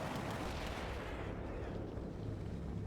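Mortar fire in the war game Combat Mission, a heavy sustained rumble of artillery booms and blasts filling the mix, loud and dense.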